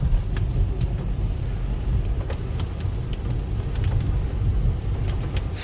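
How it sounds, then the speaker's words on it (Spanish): Steady rain drumming on a car roof heard from inside the vehicle, a dense continuous patter with a low rumble, no talking, on a rainy drive in Puerto Rico. "esperamos que pare la lluvia"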